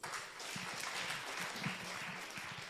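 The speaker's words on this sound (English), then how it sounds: "A round of applause." Audience applause at a project event, steady dense clapping throughout with a few low murmuring voices underneath.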